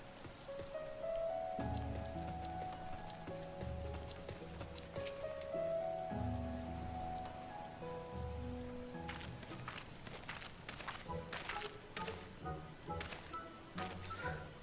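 Rainfall in the video game Final Fantasy XIV, a steady patter of drops laid under in-game music, continuous throughout with no talk.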